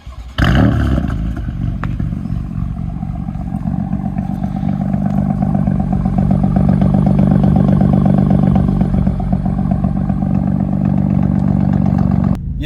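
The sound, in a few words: BMW M4 engine idling while warming up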